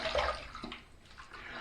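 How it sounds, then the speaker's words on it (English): A Simpson Trafalgar T1 shaving brush is rinsed under running water, giving a brief, quiet splashing gush that fades after a moment. "Let's rinse."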